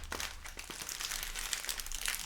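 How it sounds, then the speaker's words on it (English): A deck of trading cards is shuffled by hand, with quick crisp riffling and crinkling bursts close up, repeating in short rapid runs with no voices. "Actually, we'll do 2 more shuffles."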